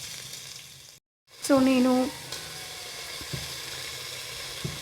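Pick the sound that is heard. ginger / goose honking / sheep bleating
ginger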